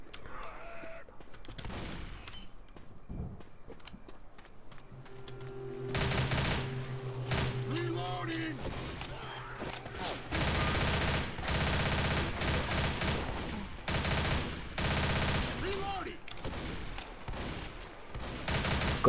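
Bursts of gunfire in the zombie shooter Left 4 Dead ring out during a campaign. Rapid automatic shots come in clusters over a rumbling game background.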